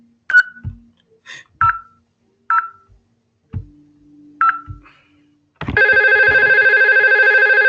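A VoIP desk phone dials extension 3005 on a LAN with a series of short keypad beeps, then a loud steady ringback tone takes over near the end.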